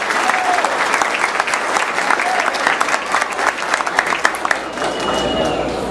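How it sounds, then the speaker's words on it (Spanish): Crowd applauding a guest speaker at a political conference in La Vega: sustained, lively clapping from a large audience, with individual sharp claps standing out near the front, continuous throughout. "para quien le pido un gran aplauso."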